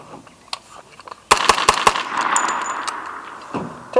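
A CMMG Guard carbine chambered in .45 ACP fires a quick string of four sharp, loud shots about a fifth of a second apart, followed by lingering echo and noise, with another impact near the end.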